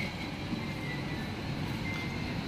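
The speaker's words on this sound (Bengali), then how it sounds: "মেট্রোতে যাচ্ছি" Steady rumble and hum of a metro train carriage en route to Bangkok's airport, a continuous low drone with a faint high whine, no voices.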